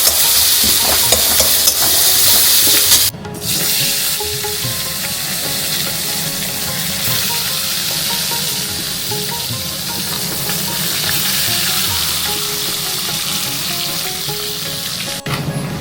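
Loud, steady sizzling of spices frying in hot oil to temper moong dal, continuous throughout with a brief dip partway, and stirring sounds close up.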